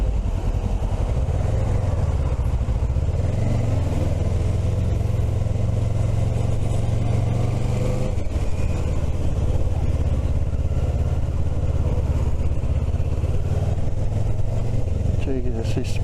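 A Kawasaki ZX6 motorcycle engine droning and shifting pitch over constant road and wind noise, loud and close throughout.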